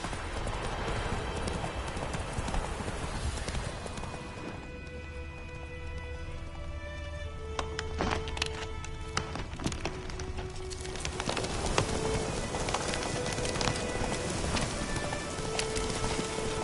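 A horse's hooves clip-clop at a brisk run across ground in a video game, steady and close, with birdsong and ambient game sound around it and no speech.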